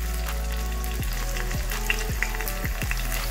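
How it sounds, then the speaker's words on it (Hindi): Potatoes and green chili fry in a pan with a constant loud sizzle, broken by several regular scrapes as a spoon stirs them. "अब इसको थोड़ा सा ऐसे चला लेंगे और इसको पकने देंगे।"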